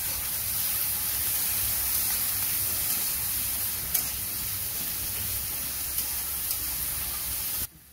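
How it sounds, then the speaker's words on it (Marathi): Tomatoes fry in a pan while okra bhaji is being cooked, giving a steady, close sizzle with a few faint clicks from stirring. No voices are heard. "आता मी टमाटर टाकते याच्यामध्ये आणि चांगलं फिरवून घेते।"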